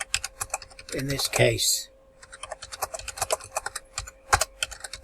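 Typing on a computer keyboard to enter text into a text box: fast, crisp clicking keystrokes in quick bursts, close and clear, with a brief spoken phrase at the start.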